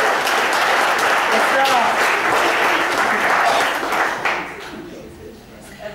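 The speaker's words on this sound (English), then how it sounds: "everyone will give you a huge round of applause" A live audience at a stage hypnosis show gives a big round of applause, dense and loud at first, then thinning and fading away over the last couple of seconds.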